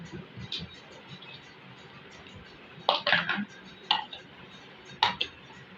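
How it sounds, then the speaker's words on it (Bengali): A bowl of milk mixed with powdered milk for homemade yogurt is covered in a kitchen: a few sharp clinks of the lid against the bowl, close and distinct over quiet background. "বাটিটা ঢেকে দিলাম।"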